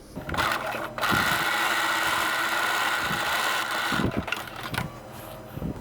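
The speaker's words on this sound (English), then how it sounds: "we're going to stitch this little short seam, 1/4 of an inch" Home sewing machine running a short quarter-inch seam on lacy lingerie fabric, a steady close mechanical whir in two or three bursts with brief pauses between, no talking.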